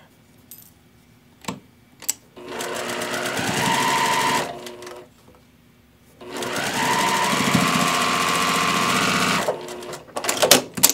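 Sewing machine stitching half-square triangle quilt pieces in two steady runs of several seconds each, separated by pauses with faint handling clicks, close and fairly loud.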